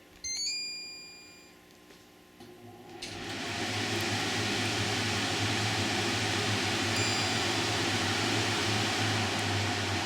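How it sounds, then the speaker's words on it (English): LG 7,000 BTU portable air conditioner (model LP0711WNR) after a few short beeps, its fan spinning up to high and settling into a loud, steady whooshing hum with a low drone underneath. "So the fan starts at high,"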